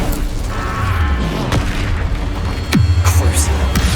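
An Incendio fire spell cast in Hogwarts Legacy on PS5 bursts out as a loud, dense whoosh and boom, swelling again near the end over constant game noise.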